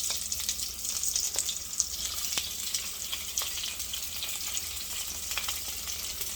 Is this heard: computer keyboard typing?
no